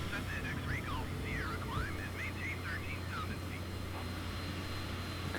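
Steady engine drone from a Cessna Citation CJ4 business jet in Flight Simulator 2020 as the throttle is eased back, a constant moderate hum under chirpy warning-like tones, with no talking.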